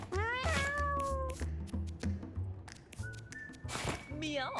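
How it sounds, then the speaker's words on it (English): A cat meows repeatedly in a game, clear high cries rising and falling over a busy background with a person talking. "Meow. Is that what I'm hearing?"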